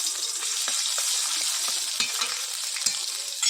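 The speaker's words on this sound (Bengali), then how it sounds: "কড়াইয়ের মধ্যে দিয়ে দেবো রসুন বাটা," Garlic paste sizzles steadily in a hot wok of oil used for frying rohu fish, a loud continuous crackle with small pops and spatters throughout and no talking.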